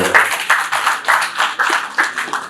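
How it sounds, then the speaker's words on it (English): Bursts of clapping repeat in short waves, a crowd applauding steadily with bright, dense hand claps and no voices over it. "Please round of applause for"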